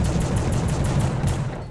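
Rapid automatic gunfire in the horror video game The Suffering, a fast even burst of close, loud shots lasting under two seconds.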